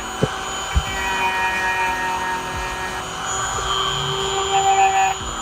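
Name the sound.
sanding carbon fiber RC car chassis edge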